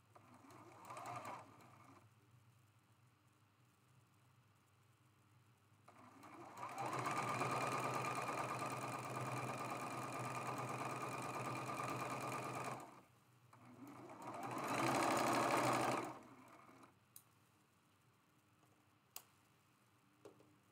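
Sewing machine stitching a quilt block seam, a steady close-up whirring run of several seconds, then a shorter second burst after a pause, with a few faint ticks before and after.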